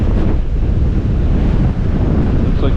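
Strong wind buffets the microphone outdoors during metal detecting, a loud, continuous low roar and rumble with gusty swells and no voices over it.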